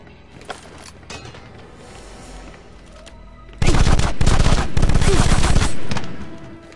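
Loud, dense bursts of automatic gunfire in the video game Afterfall InSanity erupt after a quieter stretch of faint clicks and ambience, holding as a sustained rattling volley for roughly three seconds before tapering off.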